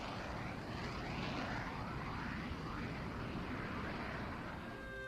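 High-performance military jet aircraft in flight, a loud continuous engine roar with a broad rushing whoosh, steady throughout and close by.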